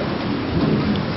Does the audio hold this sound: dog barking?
no